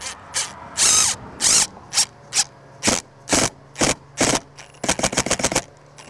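A PVC trim screw driven into exterior window trim, loud repeated bursts from a power driver in short pulses, ending in a rapid stutter of quick clicks as the head sinks in.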